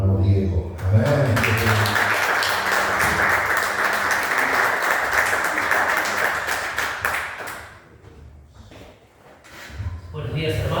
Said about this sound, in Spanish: Vamos a recibir con un cálido aplauso del Señor al predicador de esta mañana